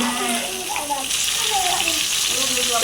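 Hilsa fish fries in oil on a gas stove with a bubbly, watery sizzle, while a person talks over it close by.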